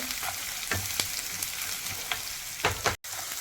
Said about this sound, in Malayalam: അതും ഒന്നിട്ട് നല്ല പോലെ മൂക്കട്ടെ